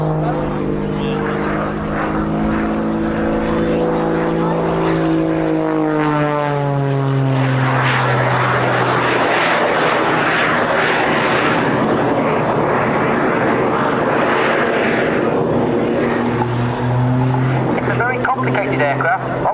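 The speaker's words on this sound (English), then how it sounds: "the two electronically controlled jet engines" A jet aircraft with two electronically controlled engines flies an airshow display manoeuvre, a loud continuous roar sweeping in pitch as it passes, with a commentator's voice talking over it.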